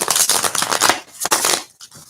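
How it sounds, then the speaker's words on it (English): Rapid papery riffling of tarot cards, several quick bursts close by, then a short pause and a softer final shuffle. "Doing some final shuffles for you."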